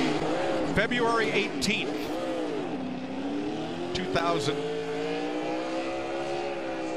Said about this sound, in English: He does some nice burnouts.